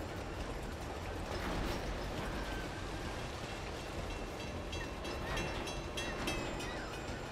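A moving train in the video game Uncharted: Among Thieves, a faint steady rumble of rolling carriages with light clatter and occasional metallic creaks, continuous and fairly distant.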